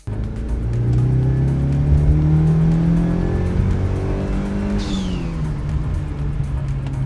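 A turbocharged car accelerating hard on a boost test run with the stock boost solenoid still connected, engine note climbing steadily through the gears in a loud, sustained pull, heard from inside without any talking.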